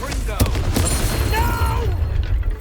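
A Confringo fire spell blasting in the Hogwarts Legacy video game, a loud burst with sharp pops early on, under game voices, followed by a falling whistling tail.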